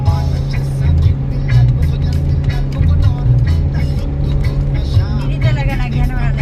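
Trucks and buses rumble along the winding Bitukang Manok road in Atimonan, Quezon, a loud, steady low engine drone with passing-vehicle swells and scattered clatter throughout.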